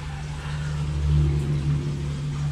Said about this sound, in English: I can hear cars very distinctly, very clearly.